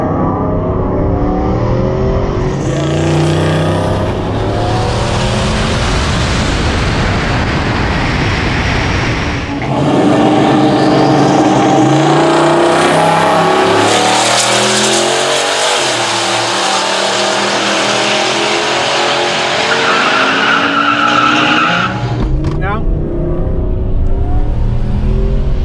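A car launches down a dragstrip with a loud, sustained engine roar that rises in pitch through the run, followed by a sharp high-revving burst and fade near the end; no talking.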